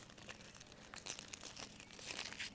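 The papery outer skin of an onion is peeled off by hand, faint close crinkling and crackling with small tearing rustles that come in short irregular bursts over a couple of seconds, with no speech.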